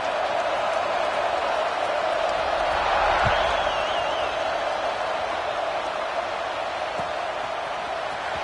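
A large stadium crowd at a Clemson college football game in the NCAA 26 video game, a steady roar of cheering and applause that swells slightly mid-clip, with broadcast commentary over it.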